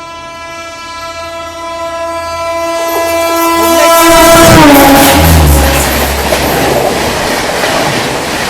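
Bhubaneswar Tejas Rajdhani Express approaching with a long, loud horn blast that bends in pitch as the train draws level, then a heavy roaring rush and wheel clatter as the coaches pass close by.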